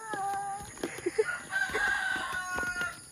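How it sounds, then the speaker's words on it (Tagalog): A rooster crows loudly nearby, a long drawn-out call with a few clucks, over a steady high electronic hum. "Di ba may manok nagising?"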